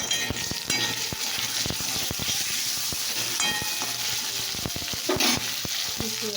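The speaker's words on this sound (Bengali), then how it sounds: "ফুলকপিটা ভাজা হোক" Cauliflower fries in a pan of hot oil with five-spice and bay leaf, a close, continuous crackling sizzle dotted with frequent sharp pops and a few spatula scrapes.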